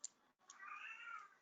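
A pet cat named Moon, in heat, meows in the background in a faint, drawn-out, wavering cry after a brief click. No one speaks.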